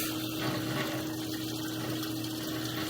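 Water runs steadily through low-flow PVC sewer piping during a televised pipe inspection, a continuous near hiss and gush with a faint pump-like hum underneath.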